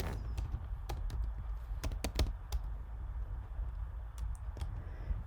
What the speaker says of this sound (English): I'm going to type in Happy Easter and use the warp tools.